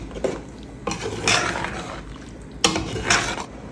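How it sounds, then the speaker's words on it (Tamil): Rice being stirred into boiling masala in a pot while making vegetable brinji, with several scraping clatters of a spoon against the metal vessel at a steady, unhurried pace, close by with no talk. "அரிசியை பொறுமையாக நம்ம மசாலாவோட மிக்ஸ் பண்ணி விட்டுக்கலாம்."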